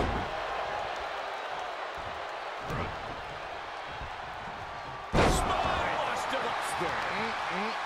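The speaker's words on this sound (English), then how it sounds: "Revolving door of forearms. Listen to the impact." Wrestlers trade forearm strikes in a WWE Fastlane submission match between Veer Mahaan and AJ Styles. Two sharp slapping thuds ring out over a constant roar from the arena crowd.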